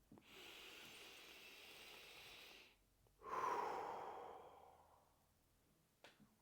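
Slow, deep breathing, a long hissing inhale followed by a fuller, louder exhale, then a short breath at the end, close and alone in a quiet room.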